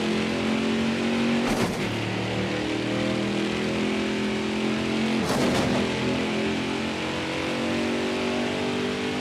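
Race truck engine roaring continuously in NASCAR Heat 5, loud and steady with two brief bursts as other trucks whoosh past, no talk.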